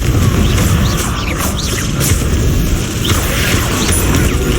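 Dense, loud fantasy battle noise from Hogwarts Legacy with booming Confringo fire-spell blasts and crashing impacts, continuous and heavy in the low end throughout.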